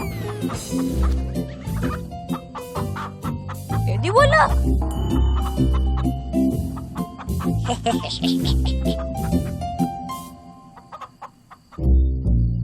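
Chickens cluck and squawk repeatedly close by, mixed with people talking and a lively background of other farm sounds.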